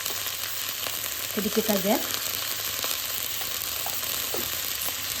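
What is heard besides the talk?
vegetables being stir-fried in a pan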